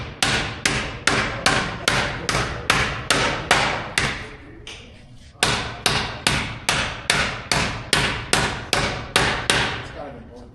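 Rapid, evenly spaced hammer blows ring on sheet metal being shaped on a dishing stump, two close, loud runs of about a dozen strikes each, split by a short pause.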